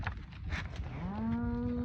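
A cow moos once, a long, rising, clear call rising from low rumbling farmyard noise as cattle are moved across a field to fresh grass.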